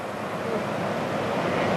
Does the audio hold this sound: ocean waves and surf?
yes